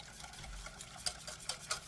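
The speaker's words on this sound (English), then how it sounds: "Now whisk it together until it's well incorporated." Quiet whisking of a vanilla tart filling made with simple syrup, steady stirring with a few light clicks of the whisk against the bowl.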